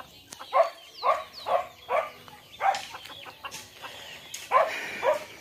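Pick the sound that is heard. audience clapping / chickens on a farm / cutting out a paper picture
chickens on a farm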